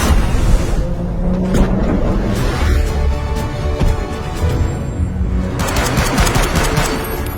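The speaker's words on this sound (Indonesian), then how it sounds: "ternyata Joe diketahui oleh Lovda yang berniat untuk menembak Joe" Bursts of rapid gunfire in The Killers video game, loud and close, with dense crackling shots at the start and again near the end over a rumbling background.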